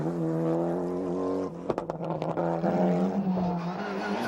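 A 1995 Mitsubishi rally car is driven hard on tarmac, its engine revving loudly and steadily before shifting and surging again with sharp pops, close and alone.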